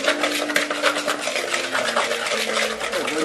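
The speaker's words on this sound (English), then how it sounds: "and a little bit of pepper, and then just mix that together" A utensil scrapes and clinks quickly around a bowl, mixing seasoning with pepper in a rapid, continuous rhythm close to the microphone, with a faint tonal hum underneath.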